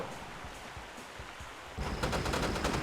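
Gunfire in an online video game, rapid bursts of shots rising partway through into a dense, continuous rattle of automatic fire over a constant noisy background.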